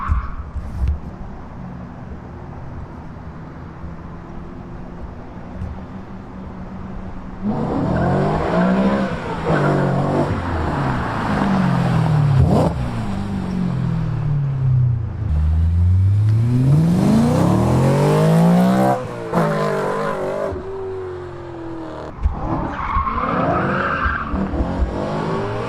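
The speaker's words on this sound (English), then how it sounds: "the car sounds completely different without its cats" A modified 2008 E92 BMW M3 exhaust with catalytic converters removed idles with a low rumble, then revs hard several times, its loud raspy note sweeping up and down before settling back to idle.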